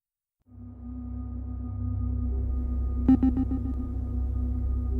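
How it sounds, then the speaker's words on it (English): A steady mechanical hum fades in and holds with a soft airy rush like air conditioning running, and a brief cluster of sharp clicks breaks through partway. "There's a humming sound and an airy sound, like air conditioning doing its job."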